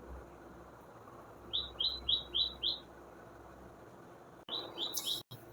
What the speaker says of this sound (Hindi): आप लोगों को शायद बैकग्राउंड में चिड़ियों का आवाज़ आ रहा होगा।